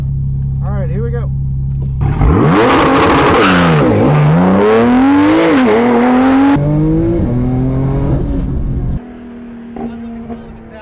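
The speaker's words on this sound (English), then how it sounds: "My favorite thing about Porsches is how many of those launches you could do." A Porsche launches hard off the start line at a regional racing final: a loud close engine roar that climbs through rising revs and gear shifts, then drops away to a quieter idle.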